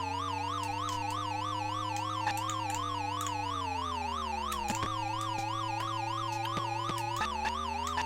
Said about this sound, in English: I'll tell you what is annoying is that siren after a little while.